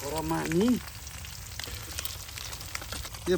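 Topse fish deep-fry in oil in a pan, producing a soft, continuous sizzle at low volume, with a brief voice-like sound at the start and end.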